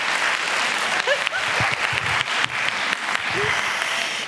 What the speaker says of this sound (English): A big applause to Victoria.